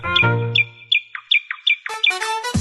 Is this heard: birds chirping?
yes